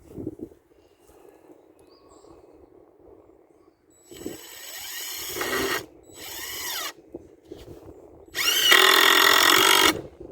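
A power drill drives 2.5-inch exterior screws into scrap lumber while building a pig shelter outdoors, three close bursts of whirring, the last the longest and loudest, with quiet gaps between.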